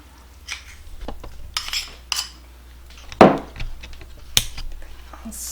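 Peanut butter and vanilla are stirred into a no-bake chocolate oatmeal cookie mixture: scattered spoon clinks and scrapes against the pot or bowl, with one louder knock, sounding close and intermittent.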